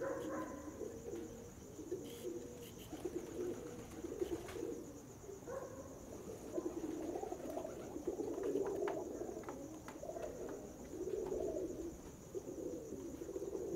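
Pigeons coo in soft, repeated low throaty phrases at a distance, faint against a quiet background hiss.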